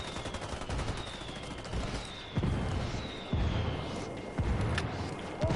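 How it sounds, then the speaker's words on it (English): A mortar strike called in during a combat video game, with several heavy impacts landing about a second apart over a continuous background of battle noise. "I called Pakatari for some mortar fire."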